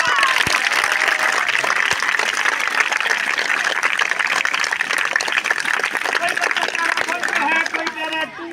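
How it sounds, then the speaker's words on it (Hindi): A crowd at a magic show breaks into sustained applause, a dense and steady wash of many hands clapping that fades slightly near the end, with voices mixed in beneath it. "तालियां बजाएं फिर जोर से।"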